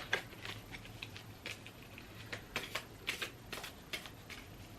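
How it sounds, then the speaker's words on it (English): A deck of playing cards is shuffled by hand on a bed, producing repeated quiet riffling bursts and soft patters in an uneven rhythm, close and faint, with no talking. "I'm going to give them a good shuffle on camera"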